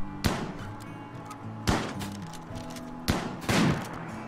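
Gunshots in Rimworld ring out as four sharp cracks, spaced irregularly over a few seconds, standing clearly above a quiet background hum.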